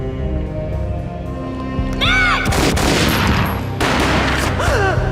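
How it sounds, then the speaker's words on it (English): Gunfire in the video game Max Payne: a loud boom and burst of shots crashes in after a sustained musical drone, followed by dense, noisy gunfire and whooshing effects through the rest of the clip. "A gunshot boomed and she fell down in slow motion."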